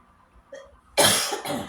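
A single harsh cough close to the microphone, followed by a shorter second cough after a quiet moment.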